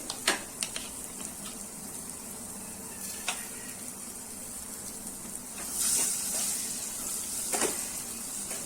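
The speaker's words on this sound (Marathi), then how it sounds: "त्याच्यामध्ये मी आता अंडी फोडून घेतलेली आणि फेटून घेतलेली टाकून घेते" Beaten eggs poured into pan-roasted spices sizzle softly over low heat for anda bhurji, a steady gentle hiss broken by a few sharp clicks and taps, with the frying swelling briefly near the end.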